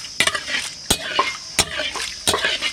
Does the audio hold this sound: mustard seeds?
yes